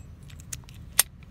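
Keys jangle against an Albert Lebel Paclock 200A padlock, giving one short, sharp metallic jingle close by with a fainter rattle just before it, and no voices.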